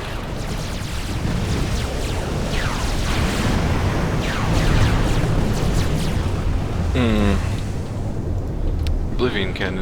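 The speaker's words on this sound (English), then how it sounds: "Oblivion cannons don't fuck around." Heavy cannon fire and explosions from Oblivion cannons in the real-time strategy game Forged Alliance, a continuous rumbling barrage with repeated booms and bursts, loud and dense throughout, with a few sharper zaps near the end.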